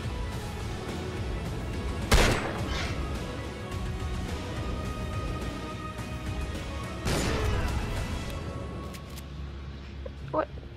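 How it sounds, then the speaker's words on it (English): Video-game gunfire rings out during a chaotic firefight on a crane, with two sharp loud blasts standing out over a dense bed of shooting and battle noise, while a person talks throughout. "There's like an absolute just all out battle on this crane."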